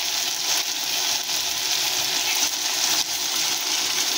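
Chopped tomatoes hit hot oil in a pan with tangra fish and ginger-garlic paste, giving a loud, steady, close-up sizzle with soft stirring and no talking.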